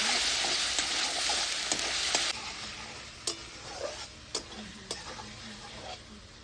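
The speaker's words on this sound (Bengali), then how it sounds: "এবার মশলাটা আবারও কষিয়ে নেব।" Masala with yogurt stirred and sautéed in a kadai, a steady bright sizzle with intermittent scraping and clinking strokes that soften after a couple of seconds.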